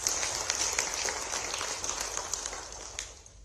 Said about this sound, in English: Could we have a bigger round of applause,